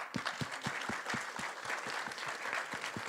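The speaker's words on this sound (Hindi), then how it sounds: "ताली मार के दिखाओ" An audience claps together at a trailer launch event, with steady rhythmic claps close up over a dense bed of scattered applause from a crowd.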